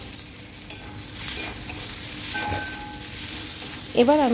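Sliced tomato and salt are stirred into a sizzling pan for chicken keema khichuri, giving a soft frying hiss with light scraping and stirring. A voice speaks briefly near the end.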